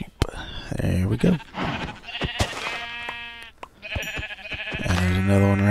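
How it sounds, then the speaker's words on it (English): Sheep in Minecraft bleat repeatedly in wavering, nasal cries, close and loud, interleaved with game sounds and someone talking. "Let's see if we can find some sheep."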